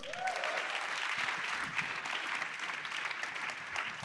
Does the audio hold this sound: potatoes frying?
no